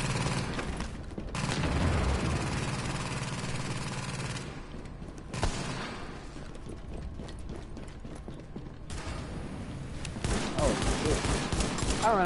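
Gunfire in The Division shooter game, with bursts of shots and clattering action layered over a busy, continuous game soundscape at steady loudness.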